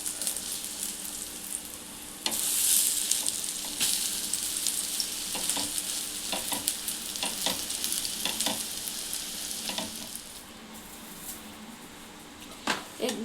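Egg chapati sizzles steadily in a hot pan after the flip, a continuous frying hiss with occasional crackles and pops.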